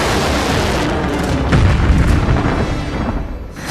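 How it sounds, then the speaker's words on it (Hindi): A large missile blast in eastern Poland near the Ukrainian border, heard as a loud, sustained booming roar that swells around the middle and rumbles on, dense with low-frequency energy and no speech. "और फिर क्या हुआ, एक बड़ा धमाका।"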